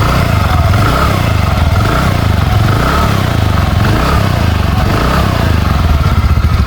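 A repaired TVS NTORQ 125cc scooter engine running close by, a loud, steady idle with a fast rhythmic chug and metallic clatter holding constant without revving.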